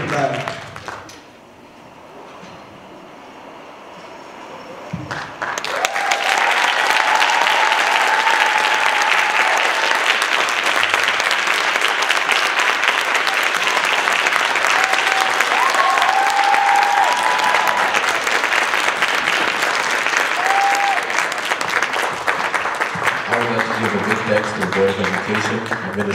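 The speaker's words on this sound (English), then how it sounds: "can we give all the student performers another round of applause" A large crowd at a high school Black History event breaks into loud, sustained applause for student performers after a brief quiet moment, continuing steadily with a few cheers mixed in.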